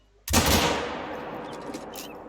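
A hunting rifle fires once in theHunter Call of the Wild, a sudden loud crack followed by a long rolling echo that fades slowly over two seconds.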